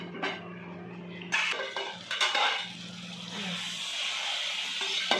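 A few metallic clanks of a lid set on a pan of onions cooking in oil, followed by a steady soft hiss of cooking.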